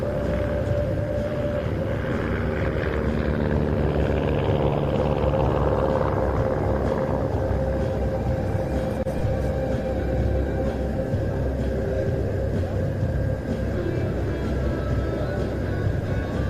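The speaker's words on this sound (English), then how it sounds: "display the flying characteristics of the Thor T18" A Thor T18 aerobatic aircraft flies a smoke-on display at an airshow in Saudi Arabia, making a continuous, fairly loud engine drone that shifts slowly in pitch as it manoeuvres.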